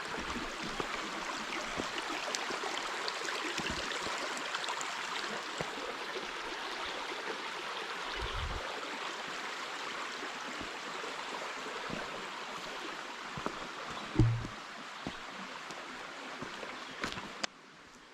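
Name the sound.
creek flowing over rocks, headwaters of the Rapidan River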